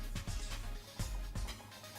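Water with turmeric and salt boiling in a pot, giving a soft churning bubble and rumble with a few low pops, close and faint, with no voices.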